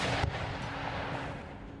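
Howitzer artillery fires in Empire: Total War, a single heavy boom near the start that fades into a low, rumbling battlefield din.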